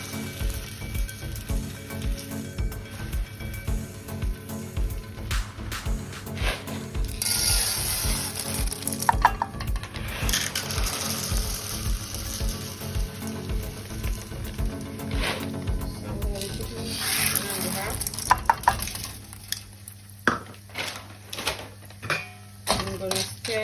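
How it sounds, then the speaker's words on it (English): Popcorn kernels dropped into warm oil in a pot, giving a steady close sizzle with dense scraping and clicking as they are stirred, growing sparser and more scattered near the end; no one speaks. "My oil is now being warm, so I'm gonna be putting my corn in there."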